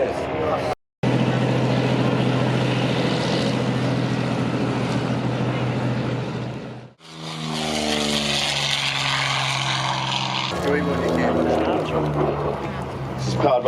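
Loud, sustained roar of a warbird plane's Allison V-1710 liquid-cooled V12 engine at an airshow, close and steady with a brief dropout and a shifting pitch as it passes, with a commentator talking over it.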